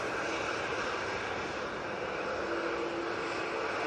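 Steady, broadband roar of a TUI airliner's engines on approach, continuous and fairly loud with no talk over it.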